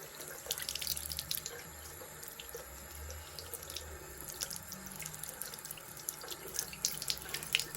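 Running tap water splashes steadily into a sink as a makeup sponge is rinsed, a quiet, even stream with faint drips and spatters throughout.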